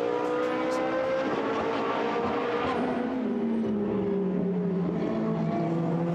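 A GT race car runs a qualifying lap, its engine note climbing through gears with a shift around the middle before a long pass that fades downward in pitch, with no talk over it.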